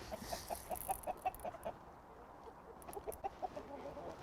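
Chickens eating apples cluck in quick, soft bursts nearby, with a short lull between two runs of clucking; no talking.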